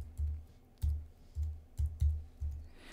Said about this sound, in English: All you have to do is type in